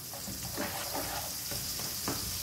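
Crushed garlic and salt fry in hot oil, a soft, steady sizzle with faint intermittent scraping and bubbling, heard close but quiet and without speech.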